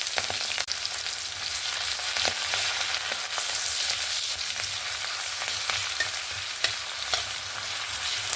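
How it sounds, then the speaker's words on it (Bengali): Chopped onion and three green chillies frying in very hot oil, with black cumin already tempered in the pan, a steady bright crackling sizzle with occasional sharper pops, close and continuous, no voices. "দেখুন পেঁয়াজটা সুন্দর লাল লাল করে ভাজা হয়ে গেছে। তার কারণ তেলটা প্রচুরই গরম ছিল"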